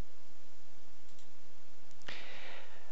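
A single sharp mouse click in data software, landing partway through against a quiet background, followed by a faint brief hiss.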